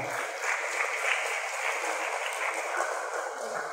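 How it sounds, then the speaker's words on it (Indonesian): Audience applause at a school graduation and farewell ceremony, a steady, moderately loud wash of clapping from a crowd that sounds slightly distant and continuous throughout. "Tepuk tangan untuk kita semua."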